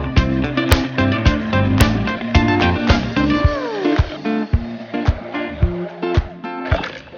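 A hand blender whirs through coconut and water in a jug, its motor whining in repeated short pulses with sloshing between bursts, close and loud, no talking.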